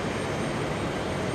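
A Delta Airlines Airbus A330 taking off at JFK gives a broad, steady roar of jet engines, distant and even throughout a short stretch.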